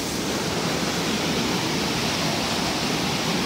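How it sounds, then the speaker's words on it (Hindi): A waterfall at Robber's Cave in Dehradun pours down as a loud, steady, close rushing roar that stays unchanged throughout, with no voices. "ये कैसे झरना यहाँ से नीचे गिर रहा है"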